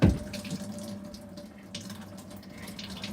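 Water squeezed out of washed laundry with a simple homemade lever press on a homestead, a brief splash followed by a steady, soft trickle and pour of draining water.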